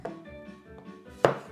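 A knife slices through a courgette on a cutting board: a few soft, quiet cuts followed by one sharper, louder chop near the end, close up and without speech.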